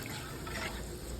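A cook pours water into a large pot for egg biryani, measured to suit a kilo of rice, giving a steady, fairly faint splashing and filling rush that runs through the whole moment.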